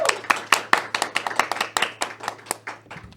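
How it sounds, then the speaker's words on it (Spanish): A few people clapping at a small faith-themed talk gathering, sharp distinct hand claps in a loose, fairly quick rhythm, close and crisp over a low steady hum. "Despedimos a Juan Pablo Bonilla con un fuerte aplauso."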